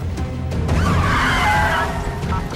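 An old disco-era car drives and skids, with a loud, close engine rumble and a drawn-out tire squeal in the middle of the short burst.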